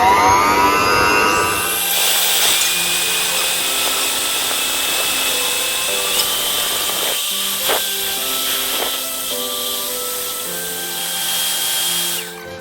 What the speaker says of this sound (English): I've got one egg white which I'm going to put into the whisking bowl here, and we're going to start off and turn it into stiff peaks.